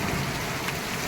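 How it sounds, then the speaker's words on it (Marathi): Rain pouring steadily outdoors in Pimpri Dukre, Jalna district, a dense, even hiss of drops with no letup across the short stretch, fairly loud and alone without any voices. "हे बघा मित्रांनो, आमच्याकडं पाऊस चालू आहे सध्या."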